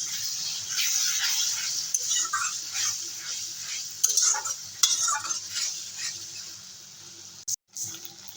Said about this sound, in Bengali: সামান্য একটু জল দিয়ে ভালো করে আর একটু কষে নেব